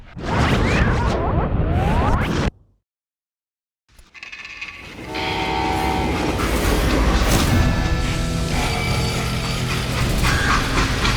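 A train in the Call of Juarez Gunslinger video game rumbles and clatters loudly, then cuts to a brief silence before the rolling rail noise returns, steady and heavy.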